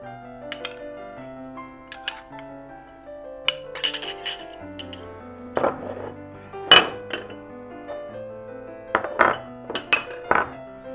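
Spoons clink sharply against a bowl in scattered single taps and short clusters as flaxseed is added and stirred into walnut and oat flour bread dough, close and bright over quiet ringing tones.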